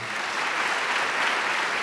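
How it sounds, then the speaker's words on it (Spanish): A church congregation gives steady, dense applause, many hands clapping together in an even, continuous wash with no voices. "Denle un aplauso al Señor."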